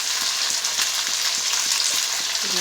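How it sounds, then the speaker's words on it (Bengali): Chopped chilli, capsicum, onion and tomato fry in hot oil for chilli paneer, giving a loud, steady sizzle with soft rhythmic scrapes of stirring. No one speaks. "দিয়ে একটু নেড়ে একটু ভাজা ভাজা করে নেব।"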